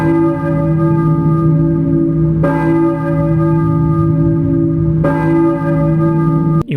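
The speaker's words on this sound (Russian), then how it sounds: "Мы проснулись под звук церковных колоколов." Church bells ring in the Silent Hill video game, with three loud, resonant strikes spaced a few seconds apart and each one's long ringing tone overlapping the next. No voices are heard.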